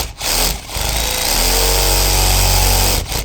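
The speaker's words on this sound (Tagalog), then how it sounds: "I like to use this metal blade to have a clean cut." A reciprocating saw fitted with a metal blade cutting a hole runs loud and close, a steady harsh buzzing drone after a couple of brief starts, with no talking.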